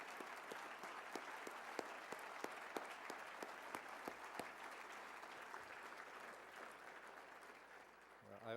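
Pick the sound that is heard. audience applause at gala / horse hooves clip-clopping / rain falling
audience applause at gala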